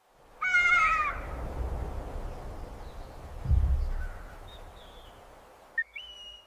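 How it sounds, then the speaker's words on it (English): On the African savanna near a bee-eater colony, an African harrier-hawk gives a sharp, descending, wailing call, followed by quieter distant calls and a brief high whistle near the end. "An African Harrier-hawk."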